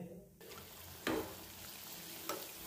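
Vada batter deep-fries in hot oil with a constant bubbling sizzle, and two sharper bursts of crackling flare up as more portions are dropped in.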